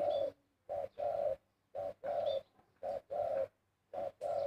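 Repeated soft spotted dove cooing in short phrases of two or three notes with brief pauses between, fairly close and clear with no voices.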